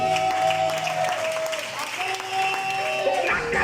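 A church congregation bursts into sustained applause, a dense continuous clatter of clapping mixed with crowd voices and held musical tones, loud and steady throughout.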